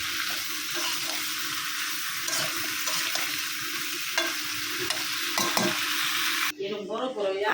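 Spices with turmeric, chili, coriander, salt and potato frying in a pan, a steady close sizzle with repeated stirring scrapes, and a voice breaking in at the very end.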